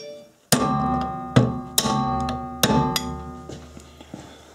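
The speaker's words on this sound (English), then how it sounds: "So we gotta knock the gib down out of the taper." Brass hammer knocking a gib key down out of a shaft taper on a Woodmaster moulder being changed over to a gang saw; five sharp, ringing metallic strikes spaced about half a second apart, close and loud, with no talk.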